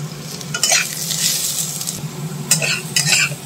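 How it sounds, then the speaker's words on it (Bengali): Radish pieces frying in oil in a pan, a close, continuous sizzle with a few scraping strokes of a spoon stirring them, no talking. "মূলোটা দেখো ভালো করে ভাজা ভাজা করছি"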